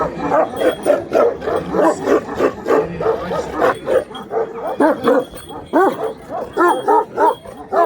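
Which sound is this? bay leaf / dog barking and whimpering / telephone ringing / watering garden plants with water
dog barking and whimpering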